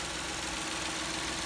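The 3.5-liter engine of a 2009 Ford Flex all-wheel-drive vehicle runs steadily at idle, a faint, even mechanical hum with no speech.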